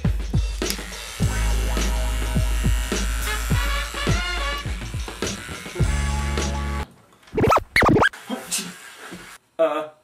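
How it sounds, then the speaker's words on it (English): An electric shaver buzzes in a steady close drone for several seconds, then cuts out into brief scratchy bursts and quiet gaps. "Time to shave."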